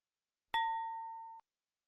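A single bright notification bell ding rings out, struck sharply and left to ring for nearly a second before cutting off abruptly, clean and alone in silence.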